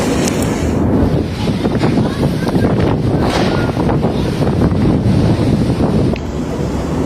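Strong wind gusts roar steadily across a town street, buffeting the microphone with loud, continuous rumbling noise throughout, with no pauses or talk.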